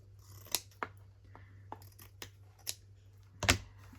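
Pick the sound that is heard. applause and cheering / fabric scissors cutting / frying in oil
fabric scissors cutting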